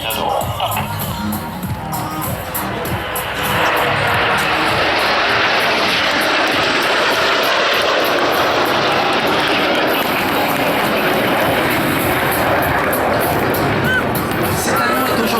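Patrouille de France jet aircraft roar overhead in formation at the La Ferté-Alais air show, the sound swelling into a loud, sustained rush over crowd murmur and a voice talking.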